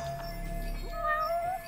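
A cat in the video game Judge Eyes lets out one drawn-out, rising meow, near and clear over a faint low background hum.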